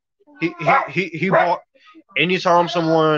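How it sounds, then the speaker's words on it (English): A pet dog barks and yips indoors close by, short sharp calls mixed in with someone talking over it. "That's my dog,"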